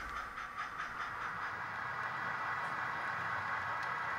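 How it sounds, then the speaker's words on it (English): An HO scale model locomotive, number 4217, moves on a club layout to couple onto the rear of a train, giving a steady hissing mechanical hum with faint clicks over the track. "Here we see the 4217 moving up to couple to the rear of the train"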